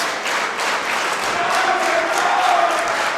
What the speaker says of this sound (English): this crowd trying to get behind the Island Boys as he is just begging there to get a tag to his brother